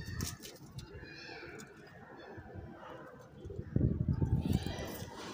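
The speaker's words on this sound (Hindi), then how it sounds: "इस कबूतरी की हर चीज़ दोस्तों नोट करने वाली है" A female pigeon coos softly in a loft, a low murmuring call repeating close by, rising louder toward the end amid light rustling.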